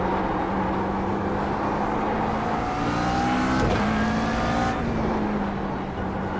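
Race car engine in a racing sim video game during a fast lap, a steady high-pitched engine drone that climbs in pitch through the gears, with a brief shift or kerb bump midway, loud and constant.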